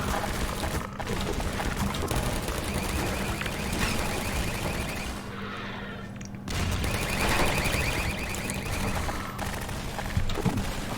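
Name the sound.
turrets firing in video game Half-Life 2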